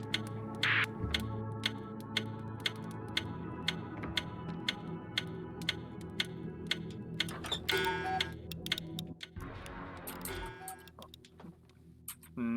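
A cuckoo clock ticks in the video game We Were Here Together, a steady, evenly spaced tick-tock under soft ambient game sounds and a few brief mechanical noises.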